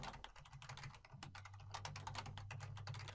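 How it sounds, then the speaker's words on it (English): Typing a password on a computer keyboard, a quick, steady run of soft key clicks heard close and quiet, with no talk over it. "I'm going to type in my own password so that I can remember it."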